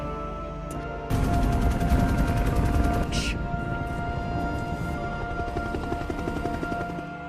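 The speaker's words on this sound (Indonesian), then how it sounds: "Kolonel Miles menembaki mereka dan tembakan itu akhirnya melukai Grace." Gunfire in an Avatar (2009) movie scene as Colonel Miles shoots at fleeing characters, a sudden burst of rapid automatic fire over a droning engine-like rumble that continues as a dense rattle under fainter background sound.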